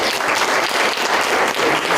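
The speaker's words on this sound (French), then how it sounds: "Pas de mal d'applaudissements pour Lexis" Loud, dense applause from an event audience at a festival in Amos, Quebec, steady hand-clapping filling the whole stretch without a break.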